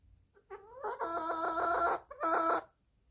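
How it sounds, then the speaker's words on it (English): A hen gives a loud, close, drawn-out call that rises, then breaks into a rapid pulsing squawk, followed by one shorter burst before quiet. "you're a good little hen"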